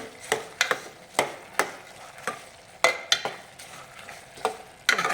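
Sweet puran filling of jaggery and lentils is stirred in ghee in a pan on a high flame, with repeated scraping strokes of a spoon over a soft sizzle at an irregular, steady pace.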